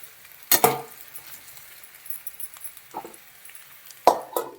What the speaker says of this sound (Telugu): కాబట్టి మనము మీడియంలో పెట్టుకొని వేయించుకుంటూ ఉండాలి